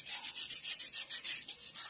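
Sandpaper rubbing a SpongeBob lamp figure, held diagonally, in quick regular back-and-forth strokes, close and fairly soft, with no talking.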